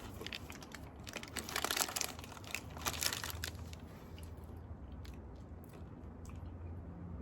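Soft, close chewing of a mouthful of Cornish pasty with robust pastry, moist crunching and biting sounds repeating over several seconds at a low level without talk.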